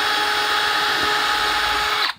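A power drill bores through wood while a switch machine is being installed on a model train layout, giving a loud, steady high whine that runs for about two seconds and then cuts off abruptly.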